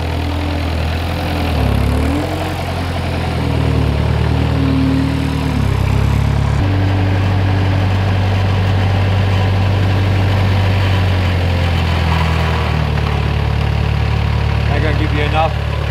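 Skid steer loader engine idling nearby in a steady low rumble, with the pitch shifting slightly as it works, while people talk over it.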